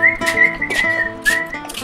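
A person whistles a sustained, wavering melody in short phrases, loud and close, with a few pauses between notes and no talking over it.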